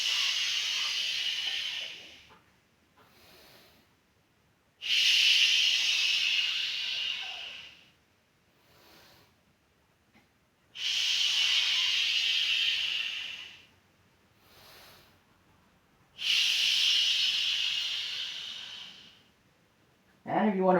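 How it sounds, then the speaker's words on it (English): Deep breathing during a neck exercise for the upper trapezius, levator scapulae and scalenes, three long close, airy breaths about five seconds apart, each one a loud hissing exhale, with softer intakes between and no talking. "Deep breath."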